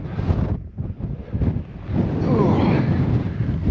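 Strong wind buffets the microphone on Criffel summit overlooking the Solway Firth, a loud continuous roar with gusty swells that builds and stays steady in the second half, with a brief voice early on.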